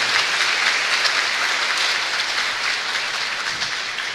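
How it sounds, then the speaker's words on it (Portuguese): A parish congregation at Sunday Mass applauds its deacon, who is celebrating eleven years of ordination, a thick, continuous wash of clapping that holds steady and eases slightly toward the end. "Vamos dar uma salva de palmas para o Diácono?"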